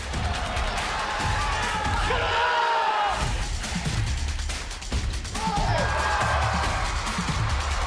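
Crowd at a mixed doubles smash final erupts in loud, sustained cheering and shouting, a dense roar with bursts of whoops that briefly dips midway before surging again.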